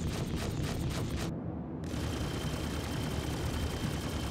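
Ship weapons blasting in Star Citizen space combat, a continuous dense rapid stream of fire with a brief gap partway through, loud and close with no talking.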